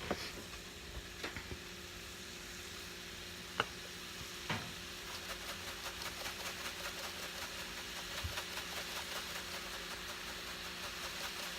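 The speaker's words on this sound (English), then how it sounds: "So we're going to brown up our meat" Meat browning in a pan for a home lunch gives a steady close sizzle and fry, broken by a few sharp clinks and stirring knocks, with no talking over it.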